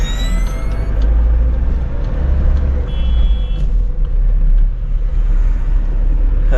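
A car comes up from behind on a Rajasthan highway along the Delhi–Mumbai route, its steady, loud low engine and road rumble filling the clip without pause.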